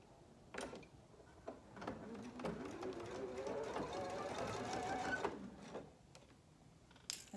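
A sewing machine stitches a seam on a market bag, a quiet mechanical whir running for a few seconds among soft clicks and handling noises, with a person talking over it.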